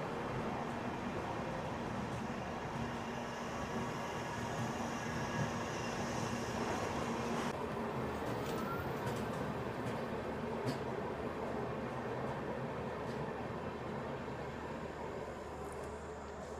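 Rani Chennamma Express pulling out of Hubli Junction, heard from on board as a faint, continuous low rumble of wheels and carriage noise with no talking.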